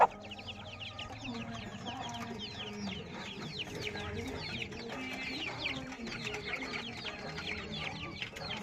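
A short-nose long-tail rooster clucks steadily amid a farmyard flock, many close, overlapping chicken calls and chatter running continuously at moderate loudness.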